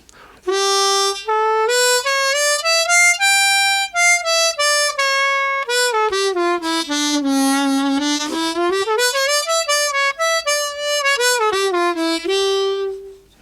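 A harmonica plays a slow, winding Mixolydian sharp eleven scale, with sustained reedy notes gliding up and down, solo and clear, with no talking.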